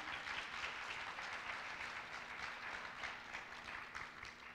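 An audience at a high school winter band concert applauds after a drumline performance, a steady dense wash of clapping that stays even throughout, heard from some distance and fairly quiet.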